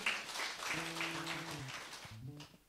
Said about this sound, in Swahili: Haya, tuwapigie makofi.